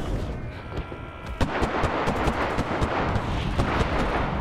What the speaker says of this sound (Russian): они просто нон-стопно летают и скидывают бомбы